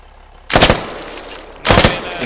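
Two sharp bursts of rapid automatic gunfire in the Squad military shooter, each short volley loud and close, separated by about a second of quieter background.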